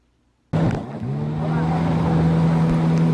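A car engine starts abruptly and settles into a loud, steady droning roar as the vehicle drives fast, holding a sustained note with a slight rise and no pauses.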